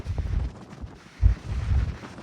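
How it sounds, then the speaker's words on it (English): Strong wind gusts buffet the microphone on the exposed mountain top at Carlo Col, a loud, rough rumble that swells and dips and peaks sharply about halfway through. "Ooh, it's some windy up here."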